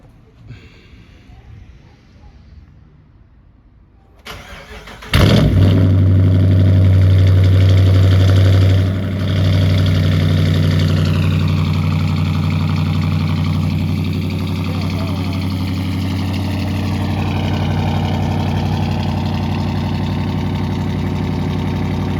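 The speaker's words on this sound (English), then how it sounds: "this is definitely going to be a cold start now" A 2019 Dodge Challenger R/T Hemi with a cat delete cold-starts with a sharp crank and loud roar, then settles into a deep, rumbling high idle that eases slightly lower, close and dominant throughout.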